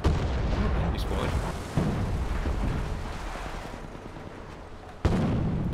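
Artillery strike explosions in the War Thunder tank game, a dense rumbling barrage with sharp blasts near the start and end, continuous and loud.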